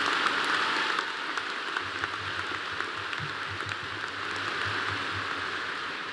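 A graduation audience at Clemson's spring 2024 commencement applauds university leaders with sustained, dense clapping that fills the hall steadily from start to finish, with no voices over it.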